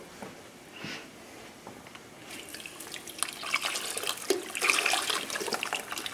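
A quart of water poured into a pot of chicken stock, a soft gurgling splash that grows louder and busier toward the end, heard alone without talk.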